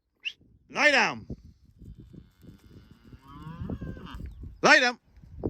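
Cows in a field on a farm give two loud, close moos a few seconds apart, with fainter lowing and a voice in between.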